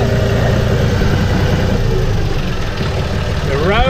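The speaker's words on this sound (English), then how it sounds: "All right, y'all, back on the John Deere 5065." A John Deere 5065 tractor with a road grader attached runs at a steady, loud, low rumble close by, holding an even idle-like drone throughout while someone talks over it.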